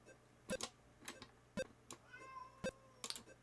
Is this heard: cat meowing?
yes